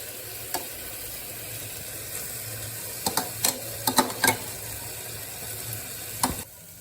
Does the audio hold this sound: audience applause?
no